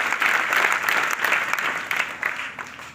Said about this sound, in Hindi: अब आप अपने लिए ताली बजाइए इस बात पे